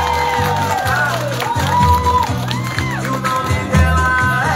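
A small crowd at an outdoor birthday surprise with a sound car in São Paulo's north zone claps and cheers over loud pulsing music, voices whooping and shouting near the speakers.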